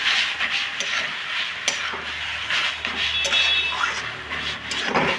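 Spinach and mixed winter vegetables stirred in a pan, with a continuous close sizzle and a spatula scraping and clinking against the metal in an uneven rhythm.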